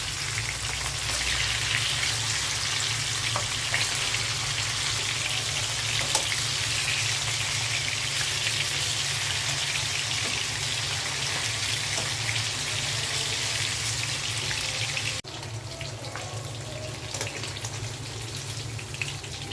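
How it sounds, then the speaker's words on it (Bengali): Hilsa fish fry in mustard-oil style cooking, a dense, loud, continuous crackling sizzle like heavy rain that drops slightly in level near the end. "মাছগুলো আমি উল্টে দিচ্ছি, হালকা করে ভেজে নেব, বেশি কড়া করে ভাজবো না।"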